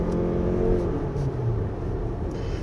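A 2024 Lexus RX450h+ engine pushed hard on a winding road, a steady droning engine hum and road rumble heard from inside the car.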